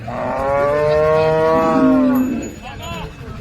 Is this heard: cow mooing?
yes